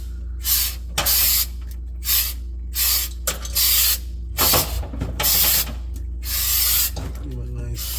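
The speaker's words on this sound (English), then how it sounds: "put the first coat of this spray pan finish on" Repeated bursts of spray from an aerosol can of pan finish during a refrigerator repair, short hissing blasts separated by pauses, close and loud over a low steady hum.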